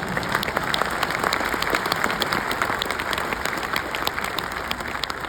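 Crowd clapping at a speech by the Indian prime minister at a conference inauguration, a steady, moderately distant roar of many hands with sharper individual claps popping through.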